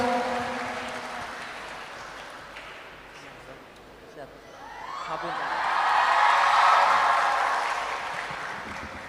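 Audience applause swells at a public religious talk in Trenggalek, Indonesia, rising from a murmur into a full, sustained clap that peaks and lingers near the end.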